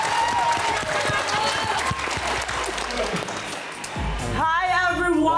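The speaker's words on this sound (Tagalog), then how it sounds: "Palakpak!" Studio audience on a Philippine TV game show applauding steadily, a dense wash of clapping with scattered cheers, then a short musical sting near the end.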